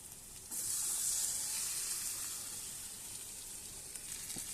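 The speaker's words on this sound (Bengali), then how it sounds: "এই যে এখানে তরকার ডালটা এবার এর মধ্যে ঢেলে দেবো।" Tarka dal poured into a hot mixture, bursting into a sharp, bright sizzle that swells and then settles into a steady hiss, fairly faint and close.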